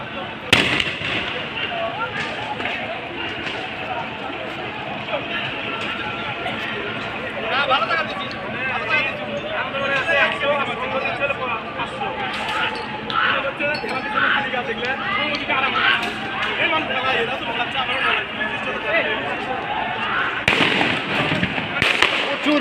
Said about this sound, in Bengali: প্রচুর গুলি ছোড়া হচ্ছে